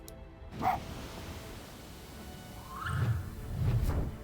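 Spirit bark from the fox in the game Spirit of the North, a short yappy bark followed by a couple of low, breathy bursts with a soft whoosh, fairly faint and heard alone.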